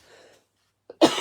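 A single sharp cough bursts out close to the microphone at the end, preceded by a faint hum and a short intake of breath.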